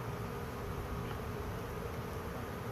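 Honeybees buzz steadily around an open hive during an inspection, a dense, continuous drone of many insects close by without pause.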